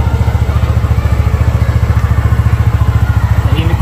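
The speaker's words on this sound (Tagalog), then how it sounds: "Tahimik pa rin ang makina" A Bristol Maxxie 160 scooter engine idles close by with a quick, even putter, running steadily at low volume with no voices.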